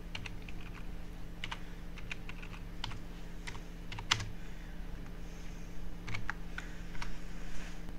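Someone types on a computer keyboard in irregular runs of light, close key clicks over a steady low background hum, with no voices.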